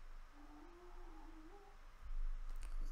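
Cat vocalizing in Minecraft, a faint, drawn-out wavering meow-like cry over low background rumble, brief and distant.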